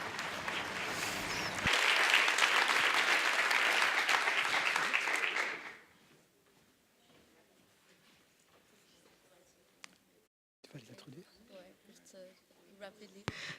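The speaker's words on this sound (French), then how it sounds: "Alors, on applaudit tout le monde." Audience at a paediatric conference applauds loudly for about four seconds, a dense wash of clapping that fades out, followed by quiet room noise and a few faint sounds.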